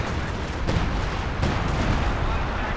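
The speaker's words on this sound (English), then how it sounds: "Some major artillery coming down as well." Dense artillery barrage in Company of Heroes 2, a World War II strategy game, with continuous rumbling blasts and several sharper impacts layered over a busy battlefield din, loud and close, with a commentator's voice faintly beneath.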